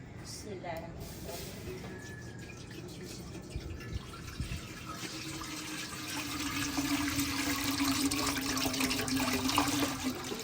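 Water pours steadily into a cooking pot of rice for kheer in a village kitchen, a continuous rushing splash that swells slightly louder toward the end amid background noise.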